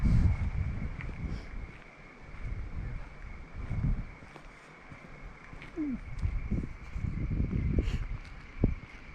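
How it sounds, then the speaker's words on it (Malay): Strong wind gusting across a hilltop campsite at Fraser Hill, a continuous rushing roar with swelling gusts and microphone buffeting, plus a few brief knocks and a faint steady high tone in the background. "Kalau kau boleh dengar bunyi angin"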